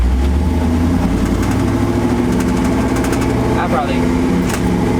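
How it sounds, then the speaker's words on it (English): Truck engine with an Eaton Truetrac differential pulling up a hill, heard from inside as a loud, steady mid-pitched drone with rattling vibration that holds throughout, while the back wheel loses traction. "you could probably hear stuff inside the cabin of the truck shaking up and down when we went up the hill"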